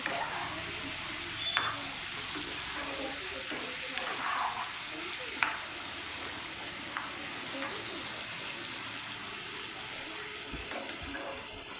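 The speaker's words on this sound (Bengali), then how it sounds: "গরম তেলের সাথে কিন্তু সুন্দর করে চিকেনটাকে ভালো করে আমি মিক্স করে একটু সটে করে নিয়েছি" Chicken sautéing in hot oil in a pan over a medium-high gas flame for a chicken kosha curry, a steady soft sizzle with occasional stirring scrapes and clinks, with faint talk in places.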